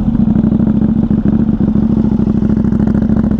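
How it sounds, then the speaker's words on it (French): A KTM 890 Duke parallel-twin motorcycle engine runs loud and close, a rapid throbbing exhaust pulse held steady throughout with no talking. "je vous refais entendre le bruit de la KTM"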